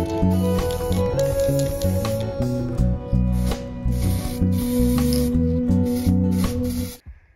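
Red oxide primer paint sprayed onto metal, a loud close hiss in bursts of a second or two with short gaps, then stopping abruptly near the end.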